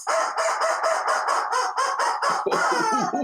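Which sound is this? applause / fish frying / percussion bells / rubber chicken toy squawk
rubber chicken toy squawk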